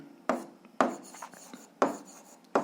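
A pen writes an algebra solution by hand on paper in short, close scratching strokes, with several sharper taps and scrapes in an uneven rhythm.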